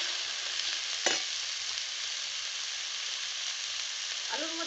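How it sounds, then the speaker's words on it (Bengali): Potatoes being stirred and fried with lightly fried onion, a steady even sizzle throughout with one sharp spatula scrape early on and a brief clink near the end, no voices. "পেঁয়াজ হালকা করে ভেজে নিয়েছি, কেটে ধুয়ে রাখা আলু দিয়ে দেবো"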